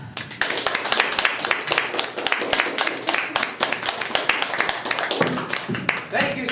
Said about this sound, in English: for that wonderful round of applause and wonderful introduction